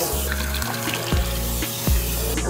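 Hot water runs steadily from a tap or shower head while someone's hair is washed. It is a close, continuous hiss and splash with small shifts in flow as the water moves over the hair. Nobody speaks.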